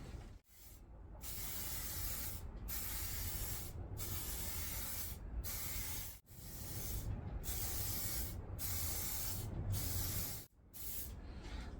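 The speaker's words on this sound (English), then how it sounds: "I'm just going to spray it across." An aerosol can sprays lacquer onto a handmade coaster, hissing in long, steady bursts, about a dozen sprays separated by brief pauses, close and even in level.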